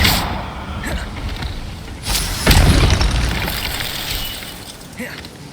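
An Incendio fire spell cast in Hogwarts Legacy, a loud whooshing burst with a boomy impact that swells and then fades into rumbling game ambience.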